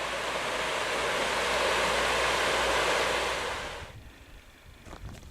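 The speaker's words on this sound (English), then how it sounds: "the sound of the river Swale" The River Swale rushes steadily near a bridge in Swaledale, a broad loud wash of flowing water that fades sharply near the end, leaving faint background noise.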